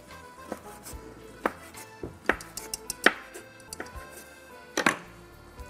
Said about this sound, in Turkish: Onu doğruyorum.